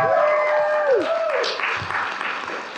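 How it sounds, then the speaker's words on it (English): An audience at a Toon Con 2023 cartoon panel bursts into loud applause and cheers, following a rising whoop-like tone. "Yeah, give a round of applause."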